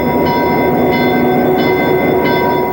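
Train on the Central Western Railway in Stettler, Alberta, a loud steady rumble of rolling cars with rhythmic wheel clatter repeating about every half second, close by, with no voices.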